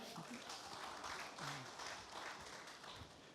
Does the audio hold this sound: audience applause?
yes